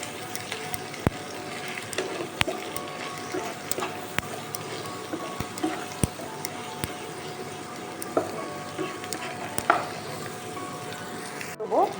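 A pan of food seasoned with salt, ground black pepper and chaat masala is stirred over a low, quiet sizzle, with sharp spatula taps and scrapes ticking against the pan at irregular intervals.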